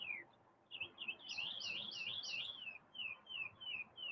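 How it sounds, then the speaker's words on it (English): Bright chirping bird calls repeat in quick wavering phrases, fairly close and clear over a soft outdoor background in a park, attributed to a woodpecker. "There's a woodpecker."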